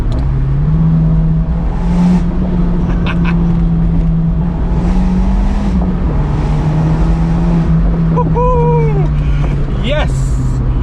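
Abarth 124 Spider engine pulling steadily along twisty, bumpy roads past walls and tunnels, a continuous droning hum with slight rises in pitch, heard from inside the car while a person talks over it.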